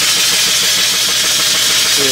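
A live steam engine fitted with a clutch runs steadily up close, giving a continuous loud mechanical chugging with a dense hiss of steam throughout.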